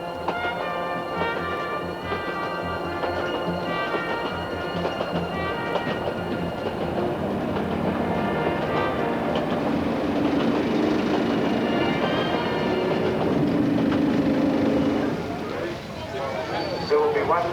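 A train on the Kuranda line in Australia rumbles along the rails with steady clattering and some tonal squeal, continuous and fairly loud, with a voice speaking over it.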